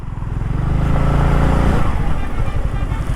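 A motorcycle rides on a road between Andhra Pradesh and Telangana, its engine droning loud and close with rumbling road noise that builds and holds steady throughout.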